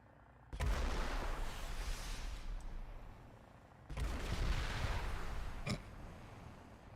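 Sustained heavy gunfire from a vehicle in War Thunder engaging several targets at once, two long loud roaring bursts with brief sharp cracks near their ends.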